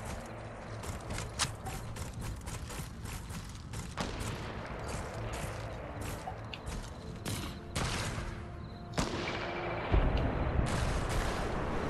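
Gunfire in Fortnite, scattered shots with sharp cracks at irregular intervals and some louder close blasts near the end, alongside mechanical clicks and no talk.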